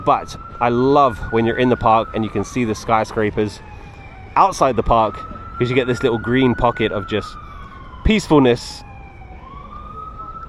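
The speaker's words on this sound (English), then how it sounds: "you can hear a police car in the background" A police car siren wails in the background of Central Park in New York City, a long rising and falling tone that sweeps on under someone talking close to the microphone.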